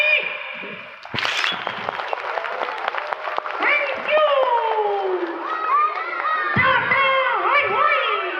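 An audience at a puppet show claps in a sustained burst of applause, with children's excited voices and shouts rising over the clapping and carrying through to the end.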